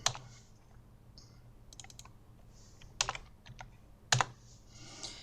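Keys clack on a computer keyboard in a quiet room, a few sharp isolated presses with two louder clicks near the middle and end, over a faint low hum.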